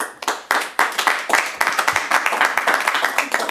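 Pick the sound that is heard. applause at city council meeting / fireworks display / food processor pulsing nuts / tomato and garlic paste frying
applause at city council meeting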